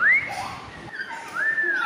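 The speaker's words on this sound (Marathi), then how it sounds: "व्हिसल म्हणजे शिट्टी वाजवा." A person whistles close by, giving two clear rising-and-falling tones separated by a short pause, with no talk.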